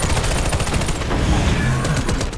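Machine gun fire in the shooter game Warface, loud rapid bursts of gunshots up close, continuous and dense throughout without talk.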